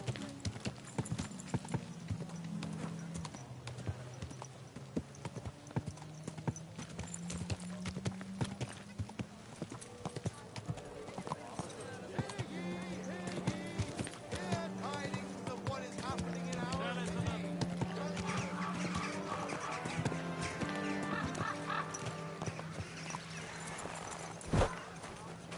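Horse hooves clip-clopping in a steady trotting rhythm in Kingdom Come Deliverance 2, mixed with background music and occasional voices.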